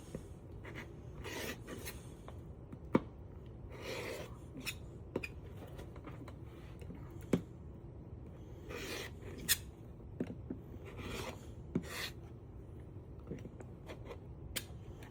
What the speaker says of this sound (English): I'll hold it down and I'm going to trim this.